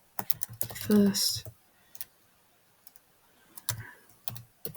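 Keys on a computer keyboard are struck in short bursts of clicks, with a person speaking at the start and a few scattered taps afterward.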